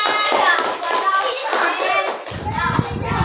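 A classroom of children claps in a quick burst of applause mixed with excited children's voices and chatter, close and lively.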